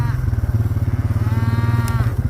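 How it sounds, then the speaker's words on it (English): Cow in a green pasture mooing for her absent calf, a loud, close, drawn-out low call with a pulsing rumble beneath it. "You hear her mooing right there?"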